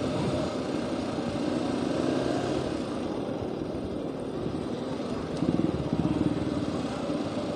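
Motorcycle engines idle and rumble steadily at a motorbike hangout spot on Malioboro, where CB and Satria bikes gather, forming a continuous low drone with a brief louder revving burst near the end.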